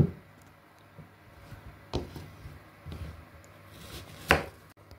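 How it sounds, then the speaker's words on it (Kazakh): A knife chops onion on a board in a few separate, close, sharp strikes spaced about a second apart, the last one the loudest, over a quiet kitchen background. "пиязымызды осында майдалап турап аламыз."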